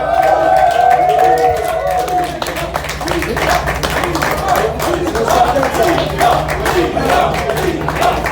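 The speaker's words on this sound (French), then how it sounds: "On peut applaudir Rizma" Steady crowd applause at a chili-eating contest in a brewery, with scattered claps and cheers, continuous and fairly loud, with a voice speaking over it near the start.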